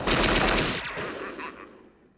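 Machine gun fire from an old gangster film clip played in Home Alone: a loud, dense burst of rapid automatic shots that cuts off sharply, followed by a fading echo and a few quieter trailing rattles.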